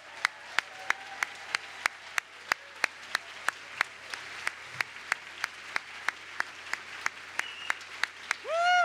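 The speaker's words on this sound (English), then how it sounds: "let's give them a big, big round of applause, everybody." Applause for book award finalists at an awards ceremony: sharp, evenly spaced claps in a steady rhythm over a soft wash of clapping, ending with a loud whoop from the audience.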